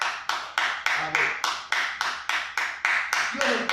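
A church congregation claps in a steady rhythm, about a dozen loud, evenly spaced beats over a few seconds, accompanied by a faint murmur of voices.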